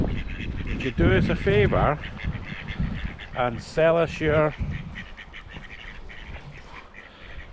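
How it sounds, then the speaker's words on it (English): Geese honking and quacking by a loch in Scotland, two bursts of loud nasal calls close by, with someone speaking in between and after them. "Oh, a couple of geese up in front of me."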